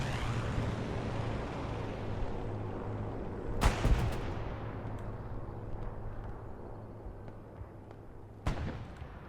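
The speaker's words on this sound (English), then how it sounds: "Strafing run coming in the back line, protect that Gary." Battlefield sounds in the World War II shooter Hell Let Loose during an aircraft strafing run: a low continuous rumble, then a sharp burst of gunfire around the middle and another crack near the end, at mid-distance with no talking.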